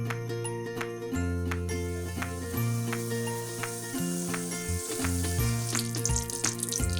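Ghee heating in a pan for carrot halwa, a soft, steady sizzle under continuous background music, with the hiss growing a little brighter toward the end.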